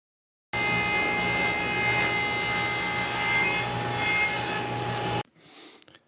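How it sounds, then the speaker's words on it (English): A power saw cuts steadily through the rubber glue line of a teak deck strip on a fiberglass anchor box top, holding a constant loud whine for about five seconds before stopping abruptly, followed by faint handling noise. "the only really practical way to separate these is just saw them through the glue line and cut the glue line off"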